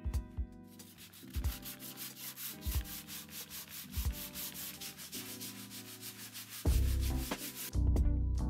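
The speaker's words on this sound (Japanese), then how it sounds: "ヤスリがけ完了しました。" A pegboard is sanded by hand with sandpaper in rhythmic, close back-and-forth scratchy strokes, steady and fairly quiet, with a low hum running underneath.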